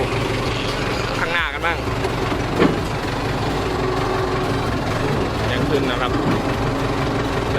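A used tractor with about 8,000 hours on it runs steadily at low RPM, a loud continuous engine drone with someone talking over it at times.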